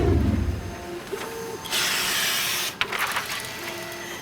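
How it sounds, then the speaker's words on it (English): A printer prints map gores for a globe, hissing and whirring in steady mechanical passes, with brief tonal beeps and a sharp click as the printing sound starts and stops. "That's the sound of the printer printing out the gores."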